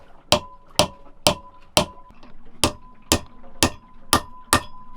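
A small hammer taps a socket on a boat, giving ten sharp metallic strikes in a steady, evenly spaced rhythm. Each strike rings briefly, and no voices are heard.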